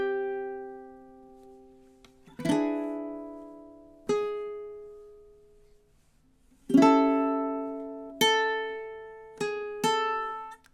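A tune on a solo ukulele, measures 9 to 11: a handful of strummed chords left to ring and fade, with uneven gaps between them, played close and clear with no talking.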